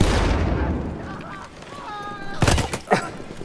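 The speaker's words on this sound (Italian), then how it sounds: "Ho lanciato una granata, via!" A grenade blast in a video game: a loud boom and roar that fades out, followed by sharp bursts of gunfire and impacts, with faint tonal game sounds in between.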